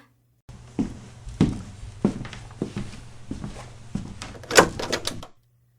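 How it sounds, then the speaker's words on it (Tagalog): A door is handled with a series of knocks and thumps, ending in a louder latch-like clatter, heard close with no voices. "Pinagbuksan mo rin ako ng pinto."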